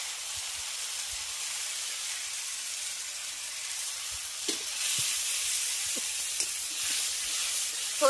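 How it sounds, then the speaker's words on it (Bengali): Ground mustard paste drops into a spice masala frying in a pan for a rohu fish curry, a steady hiss and sizzle with occasional spoon-stirring clinks and scrapes growing slightly louder toward the end. "এবার এর মধ্যে দিয়ে দেব বেটে রাখা সরষে।"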